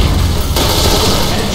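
Grenade explosion in the Point Blank shooter game, a loud close blast with a sharp crackling burst partway through and rumbling debris, dense and continuous, with no talk.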